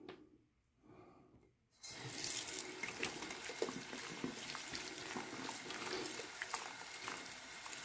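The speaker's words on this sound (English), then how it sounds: "Now we're just going to turn on the water and rinse it like we normally would if we had just finished shaving." Tap water running to rinse a new shaving brush, starting after a quiet moment with a few faint handling sounds, then a steady close splashing stream that continues with small bursts as the bristles are worked.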